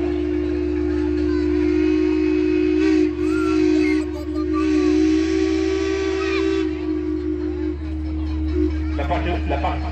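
A deep, powerful steam whistle from the paddle steamer Savoie on Lake Geneva at Vevey blasts in one long sustained tone for about seven seconds, hissing faintly, then cuts off, leaving a low rumble and distant voices.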